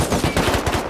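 Rapid AK rifle fire in the video game Rust, a tight burst of loud cracking shots in quick succession, close and dominant.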